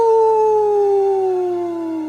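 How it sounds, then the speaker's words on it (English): A wolf howls in a forest at night, one long, loud, pure tone held close and sliding slowly downward as it fades a little toward the end, with no talk over it. "He heard wolves howling all around him."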